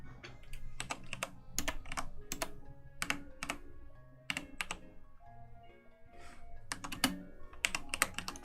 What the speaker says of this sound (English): Maybe if I type something in differently.